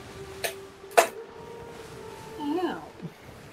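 A man imitates a cat's meow during a Sea of Thieves game session, a short, faint wavering cry coming after a couple of sharp clicks in a quiet room.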